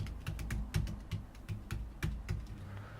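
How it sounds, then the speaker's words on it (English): Fingers type on a computer keyboard in a quick, steady run of close, crisp key clicks, each tap distinct, with no talking. "type whatever information relates to your object, hit enter again"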